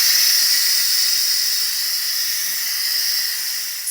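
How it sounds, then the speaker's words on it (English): Steam rushes out of an Instant Pot's pressure release valve after cooking bottle gourd curry, a loud, steady hiss that holds for the whole stretch and eases only slightly toward the end. "Now release the steam."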